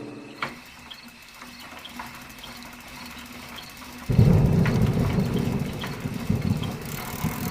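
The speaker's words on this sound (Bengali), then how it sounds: "ভেঙে বৃষ্টি আসছিল, বাজ চমকাচ্ছিল ঘন ঘন।" Rain and thunder effect in a rural Bengali horror audio story: a faint, steady background gives way midway to a loud, rolling rumble of thunder over heavy pouring rain that continues to the end.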